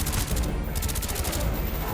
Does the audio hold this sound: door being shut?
no